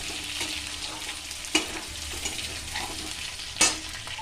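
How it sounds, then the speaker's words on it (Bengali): Potatoes, pointed gourd and prawns with chopped green chillies fry in a pan for a Bengali curry, giving a steady, close sizzle with a couple of sharp clinks as the mixture is stirred. "এবার সব দিয়ে আমি এটাকে ভালো করে ভেজে নিলাম"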